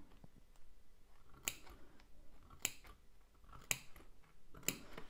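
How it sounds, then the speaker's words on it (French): Scissors snip around the curved fabric edges of a toiletry bag being sewn. Four or five crisp, separate cuts come close up and evenly spaced over a quiet background, with faint rustling between them. "je vais couper dans les arrondis"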